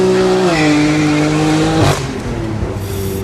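A modified BMW M2 driven hard, its engine note climbing through the revs with a tire squeal, then easing off near the end; loud and close, with no talk.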